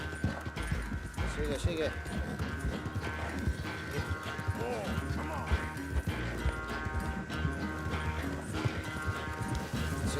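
Horse hooves clip-clop at a gallop in Red Dead Redemption 2 during a train chase, steady and fairly close under game music, with someone shouting urgently over it.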